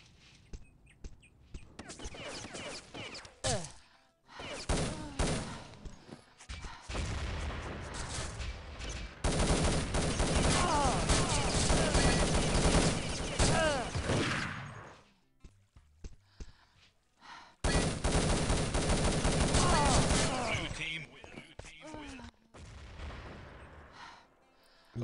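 Rapid gunfire from a multiplayer shooter game during a competitive national team match, long bursts of dense automatic fire alternating with short pauses and scattered single shots, loud and close throughout.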